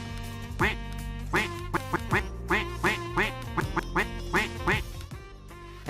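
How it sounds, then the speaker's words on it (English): A quacker item in the video game Lumber Tycoon 2 quacks repeatedly, about a dozen clear, loud duck calls in a steady run over a sustained tonal backdrop. "Next we've got the quacker."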